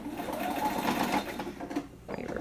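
Sewing machine running a quarter-inch seam around a fabric microwave bowl cozy, a steady close mechanical whir that briefly pauses near the end and then resumes.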